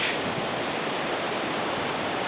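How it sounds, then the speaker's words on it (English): A creek rushes in a steady, dense wash of water as the incoming tide pushes in, swollen higher than usual after overnight rain on a coastal trail. The roar is loud, close and unbroken. "the tide's rushing in now, and we had rain last night, so this is higher than normal"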